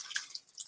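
Filtered water added to a probiotic bottle, a few quick, bright splashing drips and gurgles close by, brief and moderately quiet.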